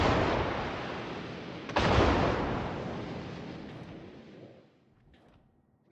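A World of Warships destroyer battle brings a rumbling naval gun barrage, then one heavy, close blast that booms sharply and fades into a long, decaying roar before near silence.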